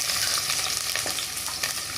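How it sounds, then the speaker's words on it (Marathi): Onion frying in hot oil in a kadai, a steady soft sizzle with faint crackle, close and continuous with no talk. "इकडे कढईमध्ये तेल टाकून ठेवलेलं आहे. थोडंसं गरम झालं आहे. आता आपण अगोदर कांदा घालून घेऊया."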